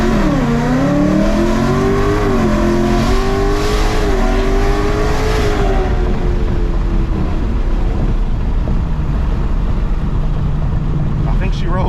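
A supercharged 2024 Ford Mustang GT with a Whipple blower launches from a rolling dig, its engine roaring loud and close and climbing in pitch through the gear, then easing off as the run winds down.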